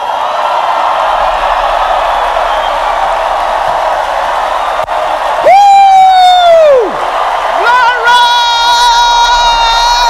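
A church congregation cheers loudly in a sustained crowd roar. Near the middle, a high whooping voice rises and falls, followed by further excited shouts.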